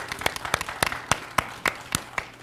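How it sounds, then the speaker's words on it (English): Rhythmic, evenly spaced handclaps at a community debate on critical race theory, crisp and fairly close, with roughly two claps per second sounding like a small group rather than a full crowd. "So just give Cleo's a round of applause,"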